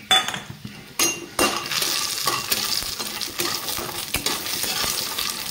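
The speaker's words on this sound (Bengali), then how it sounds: "প্রথমে আমি ডালের বড়িগুলো ভেজে নেব" Dal bori, little sun-dried lentil dumplings, frying in hot oil with a loud continuous crackling sizzle, interrupted by sharp clinks and scrapes of a utensil against the pan, close up and without talking.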